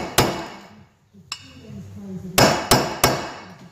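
Hammer blows on a socket seat it onto a car intake swirl flap: a few sharp metallic clangs, the final ones quick and ringing, with a voice speaking briefly between strikes.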